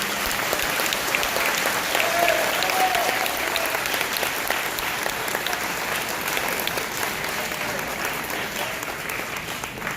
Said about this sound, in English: Please join me in a round of applause for these.